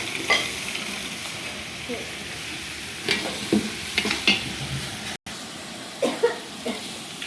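Potato curry (aloo palya) sizzles steadily in a hot pan in a hotel kitchen while tamarind juice is added. Scraping stirs and clatters come at uneven moments over the constant frying hiss.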